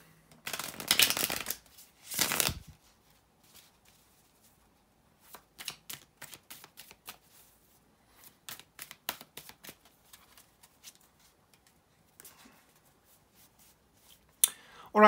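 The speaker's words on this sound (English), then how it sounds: "bear with me a second, guys, to shuffle the tarot cards" Tarot cards are shuffled by hand in two brisk riffling bursts, then a run of lighter shuffling clicks and flicks follows, close and fairly quiet, with a final card snap at the end.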